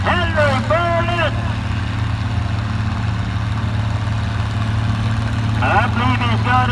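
An Oliver farm stock tractor idles with a steady low diesel rumble at a 6000 lb tractor pull, a continuous near drone running throughout while people talk over it at the start and end.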